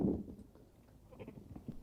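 A sheep bleats in a pen, one short loud call at the start followed by quieter rustling and shuffling movement nearby.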